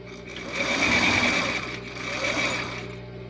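Sewing machine stitching a seam on a dress, a continuous motor whir with rapid needle chatter that swells, eases briefly, then picks up again, close and clear with no talking.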